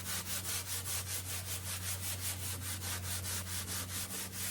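A scratchy Brillo-like pad scrubs painted wall trim in quick, regular back-and-forth strokes, a close rasping rhythm over a low steady hum.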